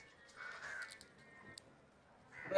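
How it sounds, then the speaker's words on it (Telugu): A crow caws a few times near the seaside temple town of Murudeshwar, with brief sharp calls standing out over quiet outdoor ambience. "కాకి ఐస్ క్రీమ్ తింటుంది"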